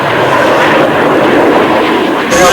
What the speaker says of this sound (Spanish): we have 4 Russian MiG jets that will come whipping through this valley.